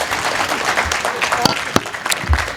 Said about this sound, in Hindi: यार तुम लोग तालियां बहुत कमज़ोर बनाते हो।